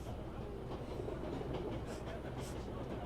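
Steady train rumble and rail clatter from a moving train in the video game 11-11: Memories Retold, a continuous low rolling noise with faint rhythmic clicks and no speech.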